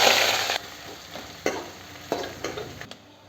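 Onions crackle and sizzle in hot oil, a steady hiss broken by several sharp scraping stirs of a spoon against the pan, close and alone.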